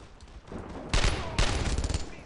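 Machine gun fire in Brothers in Arms, with two loud, dense bursts of rapid shots rising out of a quieter rumbling battlefield backdrop.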